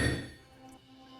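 A steel hammer strikes a diamond hard enough to break it, giving one sharp knock at the start that rings briefly and then fades into a quiet tail.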